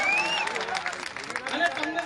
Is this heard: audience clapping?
yes